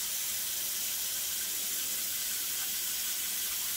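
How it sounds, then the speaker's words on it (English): Water runs steadily from a tap, a continuous hiss without pauses. "First thing, of course, fill up your water."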